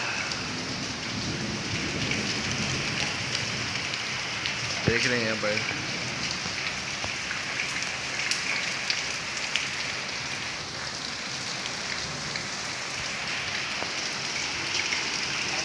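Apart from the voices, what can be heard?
heavy rain falling outside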